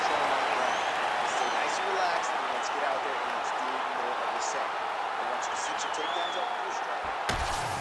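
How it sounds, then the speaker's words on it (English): A large arena crowd applauds and cheers steadily between rounds of a UFC 5 video game fight, a continuous dense wash of clapping and crowd noise with a brief sharp knock near the end. "the crowd voicing its appreciation after that crazy sequence in the previous round"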